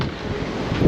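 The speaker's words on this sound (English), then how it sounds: "it is a bit windy" Steady low rumbling wind buffeting the microphone for about a second on the outer deck of the cruise ship Queen Anne, loud and continuous, with no voices.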